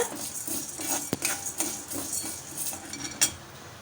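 Chana dal roasting with asafoetida in a kadai, with repeated metallic clinks and scrapes of a ladle against the pan over a faint background hiss, in an irregular rhythm.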